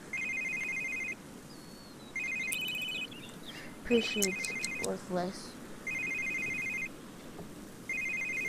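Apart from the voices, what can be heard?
telephone ringing in video game The Sims 3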